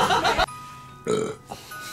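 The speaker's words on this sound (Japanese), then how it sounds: "ゲップ多いな。" A person burps while eating live octopus, with several loud, close belches in quick succession and no talking.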